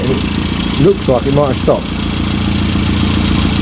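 A Rover Mini engine idles steadily while warming up, a continuous mid-pitched rumble heard close throughout, as a person talks briefly over it.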